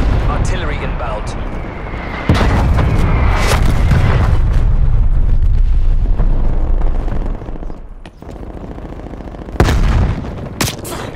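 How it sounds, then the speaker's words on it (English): Artillery strike in Call of Duty Black Ops Cold War team deathmatch, heavy booming explosions rolling in one after another, loud and close, with a voice over the battle. "Artillery inbound."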